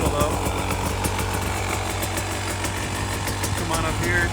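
A 2024 Beta 300 Race Edition two-stroke motorcycle engine idles close by, a steady buzzing rumble that holds even for the whole stretch, with a person talking over it.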